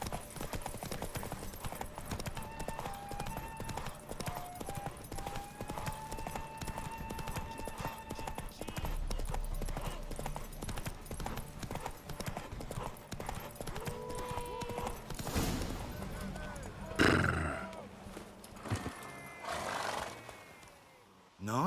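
A horse gallops and neighs in The Witcher 3 video game, steady hoof clip-clop running throughout with whinnies and bursts of louder in-game effects near the end, under music and occasional character voices.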